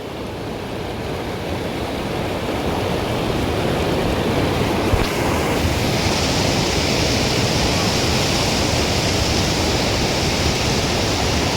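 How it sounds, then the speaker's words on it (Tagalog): Strong river current rushing in a steady, loud broadband roar that stays constant throughout, close by, with no voices. "Malakas mga idol yung agos"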